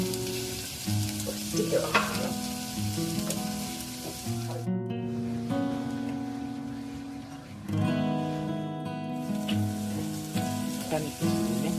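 Fish skin searing in a frying pan after a sprinkle of sake, a steady close sizzle with stirring clatter and tonal kitchen noises throughout, briefly dropping out twice before resuming; a voice speaks briefly.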